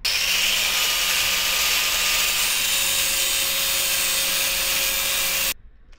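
A power tool cuts through the metal of a boat's through-hull fitting during hull maintenance, a loud steady whining grind that runs continuously for over five seconds before stopping abruptly, leaving only faint background.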